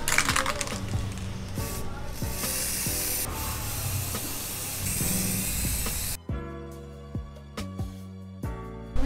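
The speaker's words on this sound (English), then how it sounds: "we're gonna be spray painting now the mounts and my mic stand" Spray paint can hissing steadily outdoors while coating metal mounts and a mic stand, a broad continuous spray for about six seconds, then quieter with intermittent short knocks and clicks.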